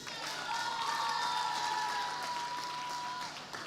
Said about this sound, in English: So clap on yourself.